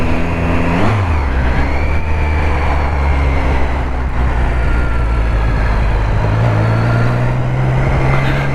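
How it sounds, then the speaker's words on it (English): A Triumph Street Triple 675 motorcycle engine drones loudly while riding, holding a steady tone before the pitch shifts as it revs and changes speed, with constant wind and road noise alongside. "This bike still sounds as sweet as the day we bought it."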